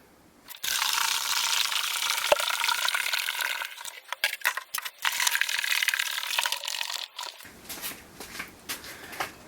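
Water poured into a home-brewing fermenter, a rushing splashing flow that fills the first half, then breaks into uneven splashes and trickles before trailing off into quieter handling noises.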